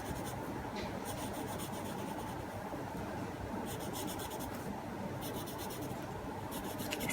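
Pencil drawing on paper for a small Zentangle-style border: a steady, continuous scratchy rasp of graphite, with brighter bursts of short strokes coming and going, close and fairly quiet, no talking.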